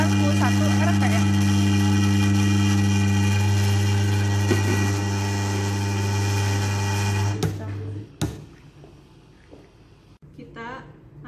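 An electric motor in delta connection runs on a lab bench at a steady, loud droning hum, then abruptly winds down and stops, leaving a few clicks and handling noises.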